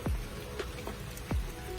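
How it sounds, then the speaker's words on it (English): Rain falls outdoors as a few distinct drops strike a surface, separate close taps over a soft, steady background wash. "it's raining"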